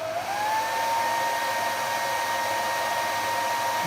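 Cooling fans in a 2 kW TomZn TOQ5 or Fchao 3000 power inverter spin up under heavy load, a loud, steady whirring hum that rises in pitch at the start and then holds constant.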